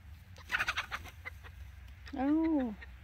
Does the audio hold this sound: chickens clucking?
yes